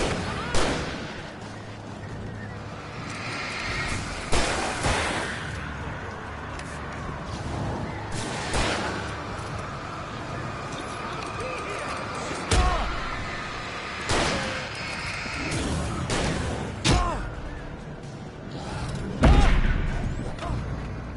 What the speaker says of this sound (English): That was really shooting at me.